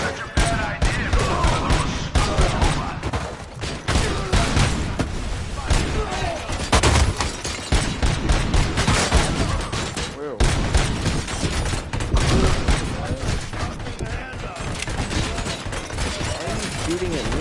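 Sustained gunfire in the video game RoboCop: Rogue City: dense, relentless volleys of rapid shots and booming impacts that continue without letup, loud and close throughout.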